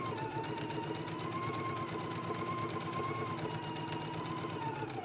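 A sewing machine top stitches a quarter inch around a dress sleeve cuff, running close and unbroken with a rapid regular needle clatter over a steady motor whine.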